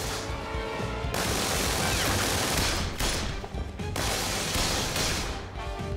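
Gunfire from the player's weapon in a PlayStation VR shooter, dense loud bursts of shots filling the whole stretch with brief gaps, crashing impacts mixed in.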